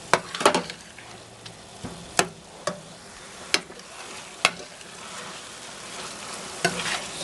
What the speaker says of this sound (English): And we'll keep browning this off until it's fully cooked.